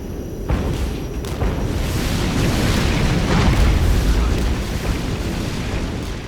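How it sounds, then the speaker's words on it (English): Heavy artillery napalm strike landing on T-72 tanks in the strategy game Regiments: a continuous, loud rumbling roar of explosions and fire bursts, sustained and dense throughout with no talk. "heavy artillery, I'm going to send some napalm on those T-72s"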